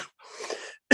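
A man gives a short, raspy cough, followed by a sharper burst at the end.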